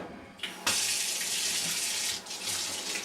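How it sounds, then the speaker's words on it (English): Water runs steadily from a tap into a sink for watercolour paper, a loud continuous hiss with a brief dip midway, no voices. "All we do is take our paper, run the tap,"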